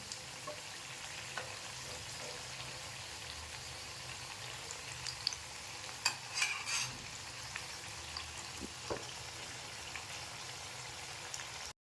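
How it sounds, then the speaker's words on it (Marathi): Pea cutlets (matar vada) shallow-frying in oil over medium heat, a quiet, even sizzling hiss with occasional faint pops and a brief clatter near the middle, no speech. "त्याला मी पलटी करून घेते हे बघा खूप छान तळी गेली आहे याची एक बाजू आता दुसरी बाजू देखील आपल्याला चांगली तळून घ्यायची आहे"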